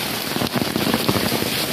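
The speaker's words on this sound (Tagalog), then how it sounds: "lakas ng ulan" Steady, dense downpour of heavy rain hitting surfaces, loud and unbroken throughout.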